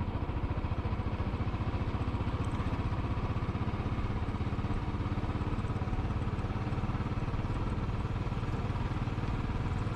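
A Royal Enfield motorcycle rides along sunny Suffolk country lanes, its engine thumping in a steady, even rhythm throughout, close and continuous with no voices over it.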